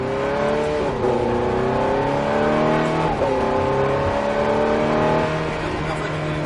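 A Ferrari F430 accelerates on a race track, its engine note climbing steadily through the gears as heard from inside, loud and continuous with a brief dip around a shift.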